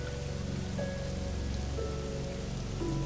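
Steady, dense rain in a Japanese video game, a constant hiss of drops on surfaces with a low rumbling bed, continuous and fairly loud, with faint tonal game sounds drifting through and no voices.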